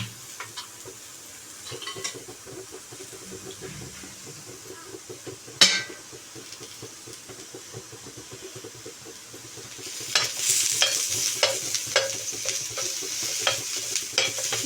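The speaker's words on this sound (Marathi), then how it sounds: "आता मी कांदा भाजून घेत आहे" Onions roasting on a hot tawa give a soft, intermittent sizzle with stirring scrapes and small clinks, a sharp knock near the middle, then louder crackling over the last few seconds, all close up.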